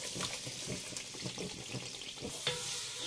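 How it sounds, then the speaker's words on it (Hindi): Marinated chicken goes into fried masala with oil separating, setting off a loud, steady sizzle with stirring scrapes, close up and continuous, with no talking. "अब हम इसमें शामिल करेंगे अपनी मैरिनेट हुई चिकन।"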